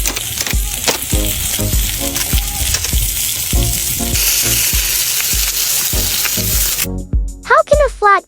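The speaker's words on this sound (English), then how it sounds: "the grill rotates on its own, ensuring all parts of the meat receive balanced heat from the embers until perfectly cooked" Meat sizzles and fries on an automatic rotating grill over glowing embers, a steady loud crackling hiss with sharp pops, ending in a brief burst of different higher tonal sounds.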